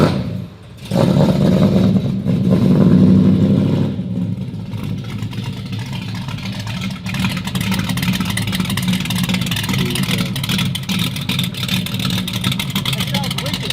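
A 1966 Ford Mustang barn find on a farm, originally fitted with a 289 engine, idles after a cold start with a steady, rumbling, mid-pitched drone and slight roughness, held close and loud while people talk over it.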